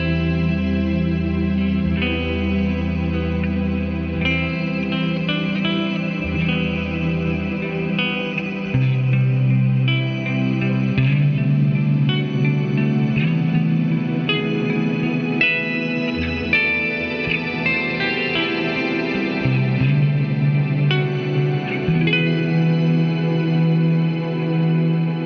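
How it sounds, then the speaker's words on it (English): Electric guitar chords ring out through a shimmer reverb pedal (RV1) with increased decay time, bright octave-up tails swelling and washing over each other into a dense, sustained ambient haze. "It's a really good sounding shimmer reverb and I really like it."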